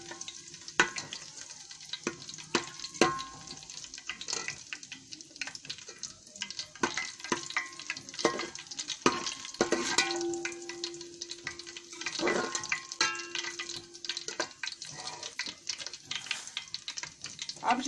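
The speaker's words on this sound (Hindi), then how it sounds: "इसमें 2 चम्मच जीरा डालेंगे। अब इसको थोड़ा सा फ्राई करेंगे।" Two spoons of cumin seeds crackle in hot cooking oil, a close sizzle broken by frequent sharp pops and spoon scrapes, with a brief tonal ring partway through.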